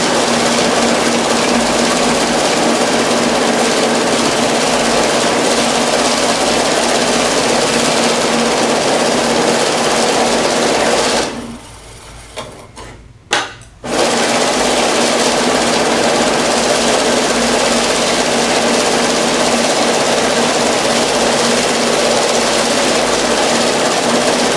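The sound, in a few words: Cassida Zeus bill counter counting about 600 banknotes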